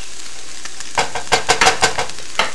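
Ground meat mixed with a large can of tomato paste being stirred in a pan, a quick series of close scraping and squelching strokes after a short quiet start.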